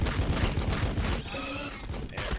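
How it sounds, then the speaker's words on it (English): A battle line squad opens fire on Hormagaunts in the Warhammer 40,000 strategy game Battle Sector, a dense continuous fusillade of overlapping gunfire with low rumbling booms, steady and loud throughout. "Battle line squad ready. We are going to start shooting these Hormagaunts."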